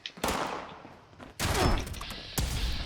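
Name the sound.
plasma weapon shots in Fallout 76 video game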